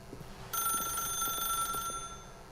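A telephone rings in The Stanley Parable, a bright, trilling electronic bell that starts suddenly and sustains for about a second and a half over quiet background sounds before stopping.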